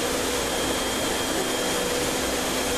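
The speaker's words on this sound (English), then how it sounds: "we're going to go ahead and turn on the ink pumps." Printer ink pumps run with a steady, even whir and hiss, a constant close machine drone with no break and no talking.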